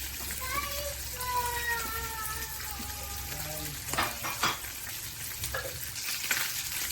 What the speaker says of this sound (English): the yellowtail is searing nicely on the other side now